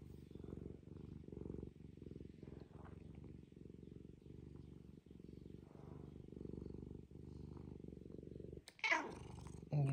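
A house cat purring close to the microphone, a steady rhythmic low rumble throughout with a brief rustle near the end.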